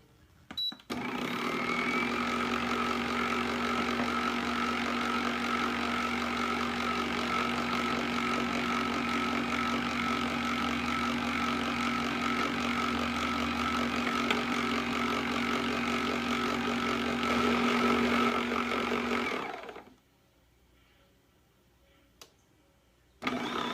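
A Cook's Essentials Primo Pasta Maker runs its mix cycle on bread flour, salt and beaten egg dough, giving a steady close motor whine with a strong constant hum for about twenty seconds before it cuts off into near silence.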